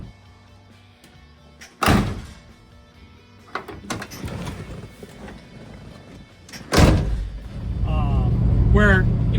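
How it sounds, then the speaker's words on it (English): Two loud door slams on a 1970 Dodge Challenger R/T convertible, a few seconds apart, each with a rattly, hollow clunk; someone talks in between and after. "You shut the door on an e-body, it's unbelievably noisy."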